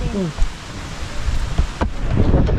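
A rainstorm with a steady hiss of heavy rain and low rumbling gusts, loud and close, with a brief voice at the start.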